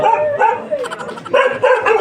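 Several dogs bark and yip repeatedly nearby, overlapping barks in quick bursts.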